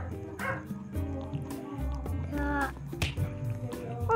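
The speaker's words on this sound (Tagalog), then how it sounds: "Pasensya na guys, maingay kasi yung aso." A dog barks and yips in a room, short sharp calls repeated in a quick irregular run, close to the microphone, over steady background game music.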